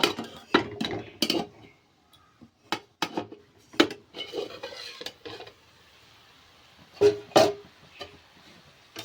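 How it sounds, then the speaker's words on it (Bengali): A metal lid comes off a pot of cabbage curry cooking with peas, giving a few sharp clinks and clatters scattered among quieter handling noises, close and moderately loud. "ঢাকনাটাকে এবার তুলে নেব"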